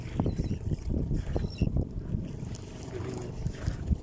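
Blustery wind buffets the microphone out at sea on a fishing trip, with rumbling gusts and the faint slosh of waves around a boat.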